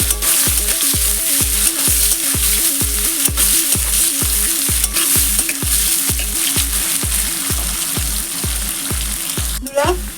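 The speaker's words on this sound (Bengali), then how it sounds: "পেঁয়াজটা আমি এবার ভেজে নেব।" Chopped onion frying in a pan with a steady close sizzle, under a loud regular low rhythmic thumping running throughout, with no talk.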